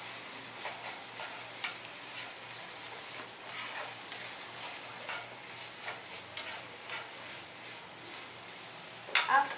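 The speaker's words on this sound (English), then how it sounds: "I put in and mix vegetable and meat and separate udon noodle" Vegetables, meat and udon noodles are stirred together in a hot pan, giving a soft steady sizzle with scattered scraping and tapping of a utensil, fairly faint and without talk.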